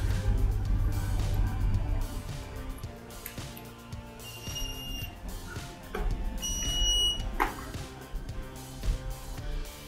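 Thin, high electronic alarm beeps from an H2S T40 gas monitor chirp briefly in two short clusters, fairly faint against a busy, continuous background hum.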